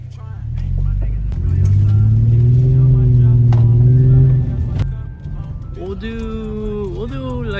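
Infiniti G37 engine with a Kyostar cold air intake, a loud, steady low rumble that swells and holds through the middle, then drops and rises again in a short rev, with voices talking over it.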